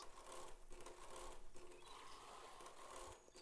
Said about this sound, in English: I do apologise if you guys can hear portable aircon in the background